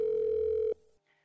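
A telephone tone from a placed phone call sounds as one steady, fairly loud electronic note for under a second, then cuts off into near silence.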